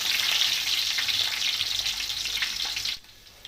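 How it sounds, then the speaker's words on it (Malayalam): Shallots sizzle steadily in hot coconut oil, a loud, close frying hiss that fades to a quieter simmer after about three seconds. "അതിനുശേഷം നമുക്ക് ചുവന്നുള്ളി ഇട്ട് കൊടുക്കാം."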